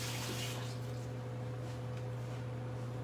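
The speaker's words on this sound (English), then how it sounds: "Rinse my hands here." Hands rinsed under a running kitchen tap while making a chocolate cake, a steady soft hiss of flowing water with low hum underneath, fairly quiet and continuous with no talk over it.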